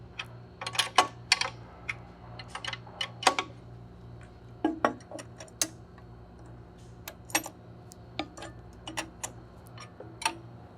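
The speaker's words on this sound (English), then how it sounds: "we're going to just hand tighten those" Motor mount bolts on a centrifugal blower being tightened by hand, heard as scattered sharp metallic ticks and clicks in an irregular rhythm over a steady low hum, close and fairly quiet.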